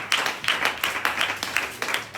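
Church congregation clapping rhythmically in unison, steady beats roughly every quarter second, fairly close and lively, with a faint murmur of voices underneath.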